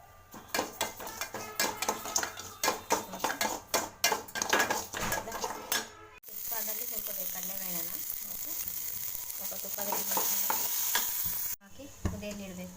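Rava (semolina) roasts in ghee in a pan: rapid metal scraping and stirring clinks come first, then a steady frying sizzle with a faint voice underneath.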